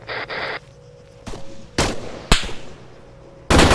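Gunfire in the Arma 3 military game: a burst of rapid shots, then single loud cracks spaced apart, with a final sharp blast at the end.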